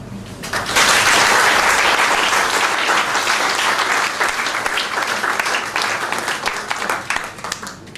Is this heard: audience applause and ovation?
yes